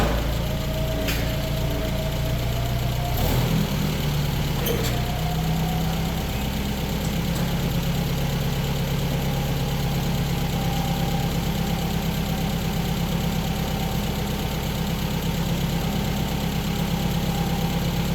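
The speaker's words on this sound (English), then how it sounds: "Grab the forklift and see if we can pluck this thing off of here." A forklift engine runs steadily during a tractor restoration, a loud continuous low rumble with a constant idle drone and a brief clank partway through, heard alone without speech.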